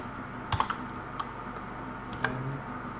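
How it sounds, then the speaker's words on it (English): Scattered clicks from a mechanical keyboard, a few sharp keypresses spaced apart over a quiet background hum. "mechanical keyboards do a lot of clicking"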